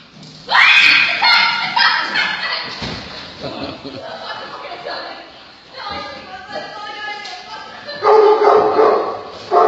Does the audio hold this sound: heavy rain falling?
no